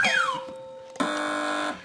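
Team quiz show buzzers sound twice in quick succession: a sliding electronic tone that sweeps downward and settles, then a brighter, steadier buzz held for most of a second.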